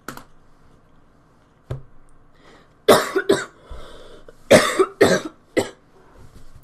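Several sharp coughs sound close to the microphone, one alone early on, then two clustered bursts of two or three coughs each, with quiet gaps and faint clicks between them.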